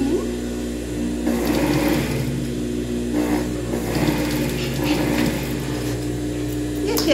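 An overlock sewing machine runs in bursts as it finishes a fabric seam on a children's dress, a busy whirring hum that rises and falls while the fabric is fed through.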